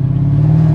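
A Mercedes R230 SL500 engine, with a faulty 722.9 automatic transmission, revs briefly during a harsh downshift. It is a steady, loud, close engine hum lasting under a second, with no voices.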